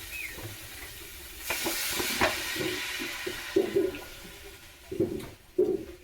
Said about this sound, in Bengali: তো এখন কিন্তু আমি ইঁচড় রান্না করছি আর ইঁচড়ের ভিতরে সব মশলা দিয়ে কষানো হয়ে গেছে।